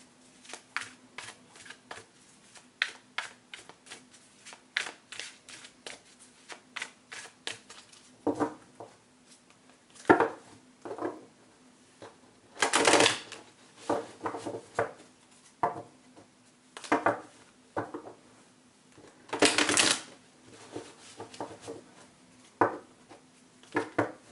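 Playing cards being shuffled and riffled repeatedly, quick papery flutters and taps in bursts with short pauses, close and fairly quiet.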